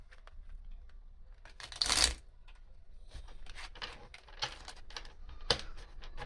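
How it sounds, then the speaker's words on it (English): Soft riffling and flicking of small tarot cards being shuffled, with a few louder flurries and quiet gaps between bursts. "Tiny cards are hard to shuffle."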